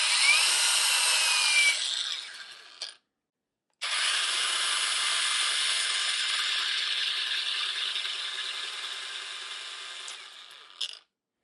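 A VERVEWAVE WT8841 cordless belt sander whirs steadily at high pitch for a couple of seconds, goes quiet briefly, then runs again for several seconds before stopping.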